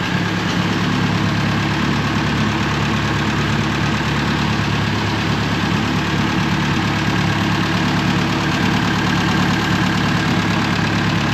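A Volkswagen Beetle engine idles steadily and loudly up close, a constant low rumble with a slight knocking texture and no pauses, with no speech over it.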